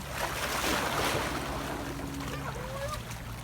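Seaside waves wash in a loud, continuous surge mixed with wind buffeting the microphone on a beach, with no talk over it.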